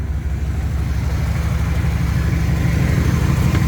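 A truck engine, a small-block 305 V8, idles steadily with a deep, low rumble and regular pulsing, close and continuous throughout with no talking.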